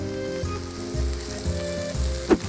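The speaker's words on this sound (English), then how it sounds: "we're gonna add the prosciutto right in" Prosciutto dropped into a pan of browning onions sizzles steadily up close, with a low stirring rumble and a brief sharp crackle near the end.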